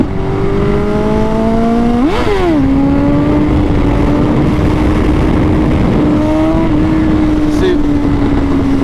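A motorcycle engine revs hard and holds a steady loud drone during a third gear clutch-up wheelie, with a sharp pitch rise near the start and a small bump later, close and continuous.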